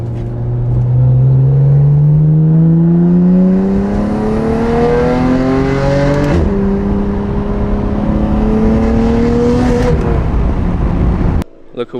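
A BMW F80 M3 exhaust fitted with an Active Autowerke equal-length midpipe rasps loudly and close, rising steadily in pitch through the gears with a brief shift break midway, then cutting off near the end.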